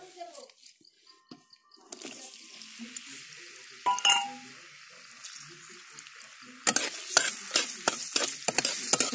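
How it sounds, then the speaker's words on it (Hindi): Onions fry in hot oil in a kadai, a steady close sizzle with scraping stirs and clinks of a utensil against the metal pan, growing busier near the end, with speech at times. "प्याज को हम लोग भूंजेंगे।"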